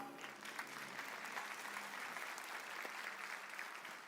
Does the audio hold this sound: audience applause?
yes